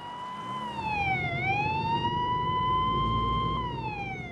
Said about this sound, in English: police cars are roaring up and down with their sirens blaring